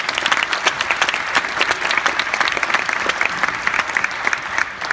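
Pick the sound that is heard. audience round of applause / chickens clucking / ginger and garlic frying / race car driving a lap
audience round of applause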